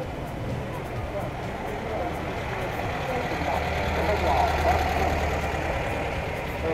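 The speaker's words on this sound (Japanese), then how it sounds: "ビートルの同じフォルクスワーゲンビートルのエンジンを搭載しているワゴンタイプの車両になります" A Volkswagen Beetle-engined wagon idles and revs, its rumble building as it pulls away at the start of a classic car rally, with a voice talking over it.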